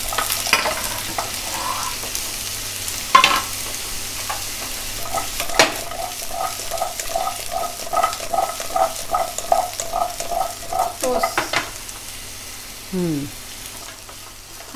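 Red pumpkin pieces frying in oil with onion and green chili, a gentle sizzle with rhythmic stirring scrapes in the pan, close and moderately loud.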